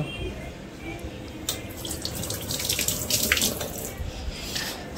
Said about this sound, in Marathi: मी हात धुवून घेते तिथपर्यंत.